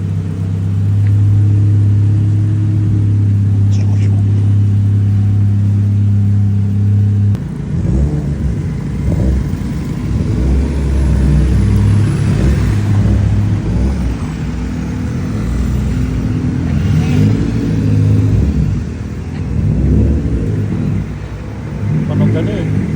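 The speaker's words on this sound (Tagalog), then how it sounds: "Tunog malaking makina eh." A Toyota 4A-GE 16-valve engine with a straight-pipe exhaust, first holding a loud, steady droning idle, then rumbling and revving in rising and falling surges while people talk nearby.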